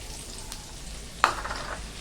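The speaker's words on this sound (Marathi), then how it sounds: "आता आपण मिरच्या आणि कढीपत्ता तळून घेऊया" Green chillies and curry leaves fry in hot oil for a crisp poha chivda, giving a steady broadband sizzle with one sharp burst of crackle midway as they hit the pan, fairly quiet and with no voices.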